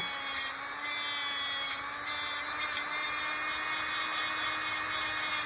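Hand sanding of a silver moss agate ring with finer-grit paper gives a faint, continuous rubbing hiss with slight strokes, close up and without talk.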